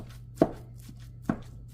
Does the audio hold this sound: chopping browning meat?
yes